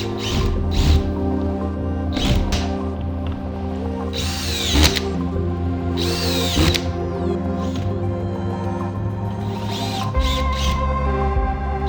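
A cordless power drill drives screws into drywall sheets on a garage wall, loud and near, its motor whirring in repeated bursts with pauses between screws and no talk.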